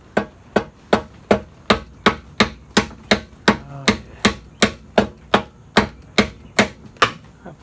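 A small hammer taps a steady, even series of about twenty sharp metallic knocks on the stuck engine of a 1988 MTD mower, close and alone, roughly three blows per second.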